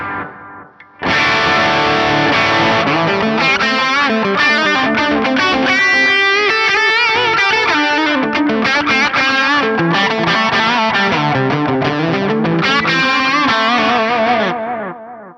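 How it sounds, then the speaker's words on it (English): An electric guitar runs through the analog delay model on a NuX MG-30, ringing melodic notes trailed by warm, repeating echoes that smear into a thick, slightly distorted wash sustaining for over ten seconds. "probably my favorite, the analog delay"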